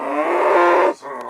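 Beef cattle calves from a spring-calving cow herd at weaning time give a loud, sustained moo lasting most of a second, then a quieter second call trails off, with no talk.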